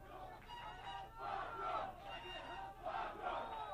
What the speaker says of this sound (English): The fans are cheering their warrior on